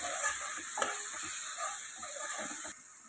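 Garam masala and other spice powders sizzling in hot oil in a pan for a cauliflower chicken curry. Steady, close hissing throughout, with faint stirring scrapes.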